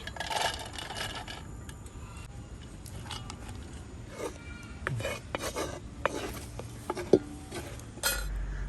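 Rice spooned into a pot with ghee while a kingfish dum biryani is layered, heard as scattered metal clinks, scrapes and spoon taps against the vessel, close and fairly quiet with no talking.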